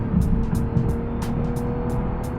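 A Lexus RC 350 F Sport in sport mode accelerates at full throttle, a steady loud engine drone heard from inside the cabin with rhythmic ticking over it and no talk.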